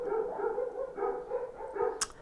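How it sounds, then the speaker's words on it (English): Dogs bark in the background of an indoor room, a few muffled, mid-distance yips and barks spread across a couple of seconds with no one talking. "Sorry about the doggies barking."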